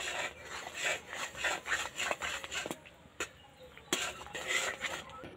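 A spoon stirring a thick beetroot barfi mixture with ghee in a pan, giving rhythmic, close scraping and rubbing strokes in quick repeated passes, with a couple of sharper knocks against the pan.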